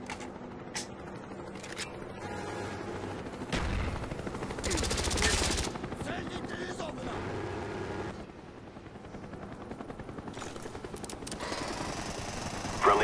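A Cobra attack helicopter in Call of Duty: Black Ops thumps with rotor chop under heavy bursts of gunfire, a loud multiplayer battle with overlapping shots and a faint voice in the mix.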